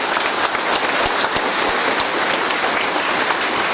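Continuous audience applause at a night-time PSHT Suran gathering in West Lampung, a dense even wash of many hands clapping at steady volume with no voices over it.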